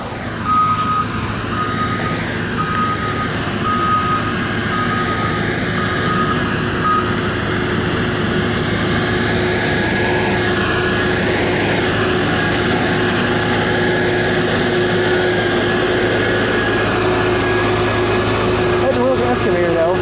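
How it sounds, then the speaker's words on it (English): An excavator works at the demolition of an old hospital during asbestos removal, a steady loud engine drone with a truck's repeating reversing beeps sounding through the whole stretch, close by and continuous. "Excavator though."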